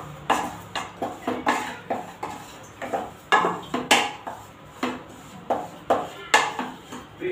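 A spoon scrapes and knocks rhythmically against a pan while maida barfi mixture is stirred with extra ghee, steady repeated strokes roughly twice per second, close and clear with no talking.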